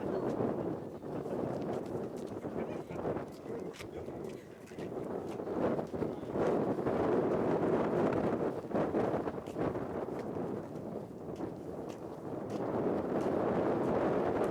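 Steady wind buffets the microphone for the whole stretch at the Aso volcano in Japan, a dense low roar that swells and gusts without letup.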